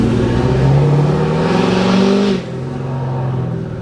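A car engine with a turbo blow-off valve revs hard at high RPM, a loud sustained roar with rising pitch that drops off sharply partway through and settles into a lower drone.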